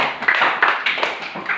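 A group in a school classroom claps hands together in quick, fairly regular bursts, loud and close, with no clear talking.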